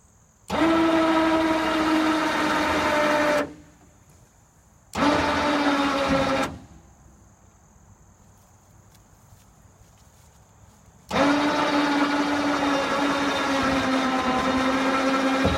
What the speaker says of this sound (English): We are using a winch to tighten it